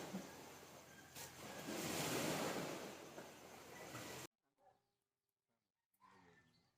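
Loud surf roars and swells for several seconds, then cuts out abruptly, leaving near silence with faint scattered sounds.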